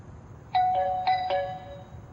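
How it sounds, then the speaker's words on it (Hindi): A doorbell rings in a home, several chime tones struck in quick succession and left to decay, clear and fairly loud against a quiet background with no talk. "घंटी बज रही है, तो मैं क्या करूं? जाके देख कौन है"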